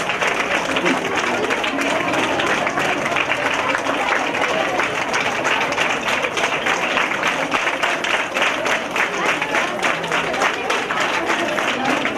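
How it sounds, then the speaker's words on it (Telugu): An audience at a school Sankranthi celebration claps steadily, a dense, even wash of applause lasting throughout at close range. "అందరూ క్లాప్ ఇవ్వాలి."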